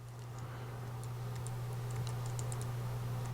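Someone types a file name on a computer keyboard, quick light key clicks that are close but soft over a steady low electrical hum, with no talking.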